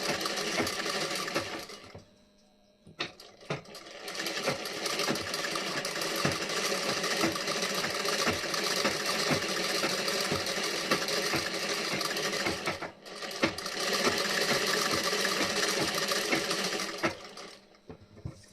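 A sewing machine stitches blouse fabric, running in long steady bursts with brief pauses between, its rapid mechanical chatter loud and close with no voices.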